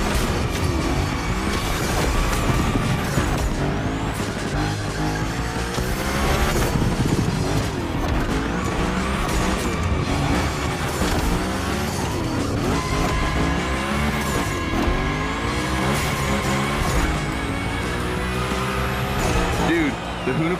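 Hoonigan car drifting in The Crew Motorfest during a Gymkhana Grid Masters run, engine roaring continuously with repeated tire squeals and skids over about twenty seconds, loud and close, with a voice talking over it.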